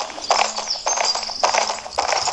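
Horse hooves clip-clop in a horse-riding video game, four evenly spaced, fairly loud hoofbeat bursts in a steady walking rhythm with no talk over them.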